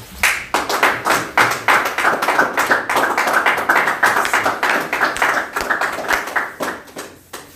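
An audience claps for itself: a close, loud, continuous round of applause with many rapid, dense hand claps that taper slightly toward the end.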